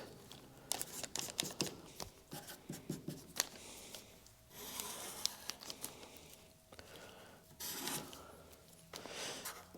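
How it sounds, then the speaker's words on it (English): Close scratching and tapping of a pen marking tucks on paper while mirroring a panel, with intermittent strokes, rustling paper and crinkling, fairly quiet over a low hum. "I'm marking where the tucks are or our looseness is"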